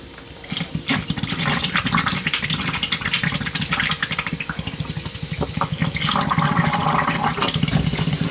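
Baking soda dissolved in hot water foams and fizzes as it pours over lead battery plates, a loud, continuous rushing and gurgling with crackly bursts of bubbling.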